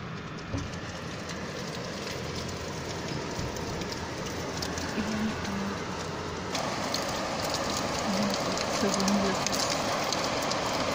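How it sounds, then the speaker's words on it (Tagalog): Heavy rain in Brunei, heard from a showroom, pours steadily in a dense, continuous hiss and patter, loud and enveloping, with a voice speaking faintly beneath it. "Sobrang lakas po ng ulan."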